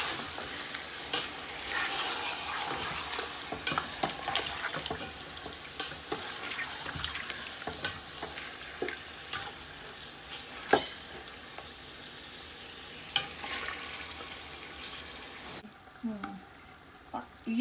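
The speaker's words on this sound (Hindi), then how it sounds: "थोड़ा सा फ्राई हल्का सा किया है मैंने" Chicken frying in a karahi with garlic and ginger, giving a steady sizzle with repeated stirring scrapes and clinks throughout, fairly close, fading to quieter bubbling near the end.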